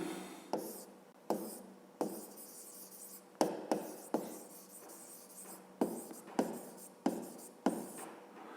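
Pen or chalk writing out a fifth-grade math solution, a series of distinct scratchy strokes in short bursts with brief pauses, close and moderately loud, no talking.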